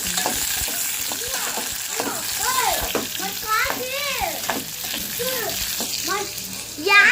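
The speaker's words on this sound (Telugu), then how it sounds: "ఆనియన్స్ కూడా వేసుకొని శుభ్రంగా ఫ్రై చేసేసుకోవాలి" Onions fry in a hot pan with a steady sizzle and occasional stirring scrapes, close and fairly loud, while someone speaks over the cooking.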